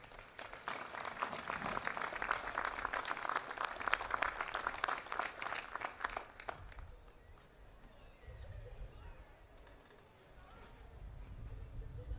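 Audience applause greets a speaker taking the stage at a 2024 graduation ceremony, a dense burst of clapping filling the first several seconds before fading into quieter crowd murmur and room noise.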